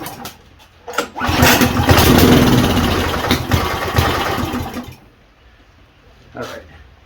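A small engine, just refuelled after a fuel leak, cranks and catches outdoors in the rain, running loudly for several seconds before dying away, with a brief sputter after.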